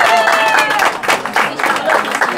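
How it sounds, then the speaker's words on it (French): An audience at a performing arts fair applauds a festival organiser, a dense burst of close clapping that rises and dips unevenly throughout, with no speech over it. "Je crois qu'elle mérite nos applaudissements"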